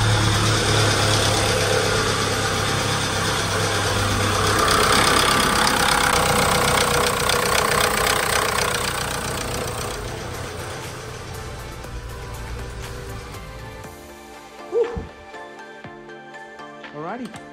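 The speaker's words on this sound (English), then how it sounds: "So, great news. The car runs." A Volkswagen Golf GTI MK5 engine running with a noisy timing chain: a loud, steady mechanical clatter and drone close by, easing off toward the end, with brief voices near the finish.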